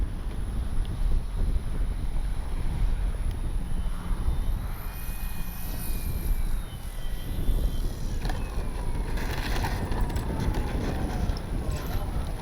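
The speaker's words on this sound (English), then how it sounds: "It's windy." Steady, heavy wind rumble buffets the microphone outdoors at an RC airfield, with a faint hum from an Avios Grand Tundra RC plane engine and brief distant sounds in the background.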